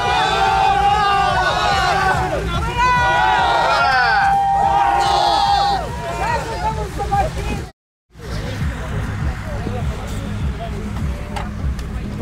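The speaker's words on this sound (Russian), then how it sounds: "Аплодисменты! Аплодисменты чемпиону!" Spectators at an ice drifting competition cheer and shout for the winner during the awards: a loud, sustained crowd roar with whoops and babble, a deep engine-like rumble underneath, a brief dropout, then continued crowd noise.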